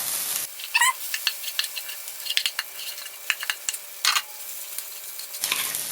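Rice being stir-fried with spices and kencur in a pan, a steady sizzle broken by scraping and clinking of a spatula against the pan in irregular bursts.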